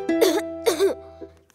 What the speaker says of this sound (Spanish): Tengo tos.